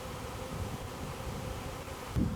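A honeybee swarm hangs on a low tree limb, giving off a soft continuous buzzing drone that holds steady and faint throughout with a light rustle near the end.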